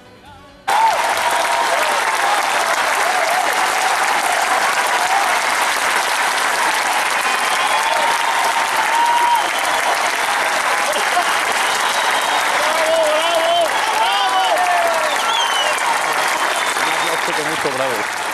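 A concert audience gives the singer a long, dense ovation, steady and loud from start to finish with no voices over it.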